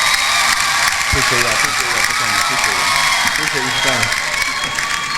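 Steady clapping and crowd noise fill the scene throughout, with a person talking over the applause.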